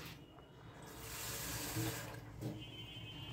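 Water is poured from a bowl into a cooking pot for a thin hilsa fish curry, a fairly faint, steady rushing splash lasting a few seconds.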